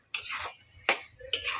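Three short scraping strokes as a spoon stirs a coconut mixture in a pan for kuli pitha, close and dry with brief pauses between them.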